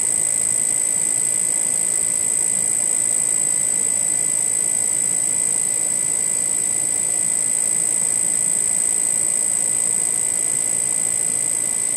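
Electrostatic magnetic levitation motor spinning at about 3300 RPM under high voltage, a loud steady whine with a constant hiss and high buzzing tones that never vary, alone.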